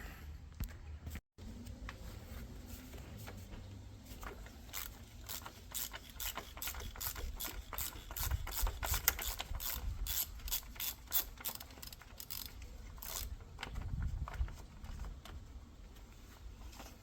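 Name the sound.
ratchet loosening VW Jetta oil filter housing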